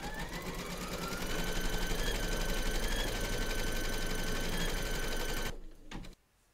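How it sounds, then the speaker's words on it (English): An embroidery machine stitches a placement outline on stabilizer in a hoop, a loud continuous rapid needle rattle and motor hum that stops abruptly near the end, followed by a couple of faint clicks. "pop your hoop into your machine and stitch round number one"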